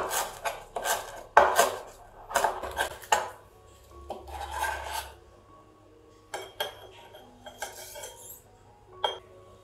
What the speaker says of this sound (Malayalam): ഒരല്പം മല്ലിയിലയും കൂടി ചോപ്പ് ചെയ്ത് കൊടുക്കാം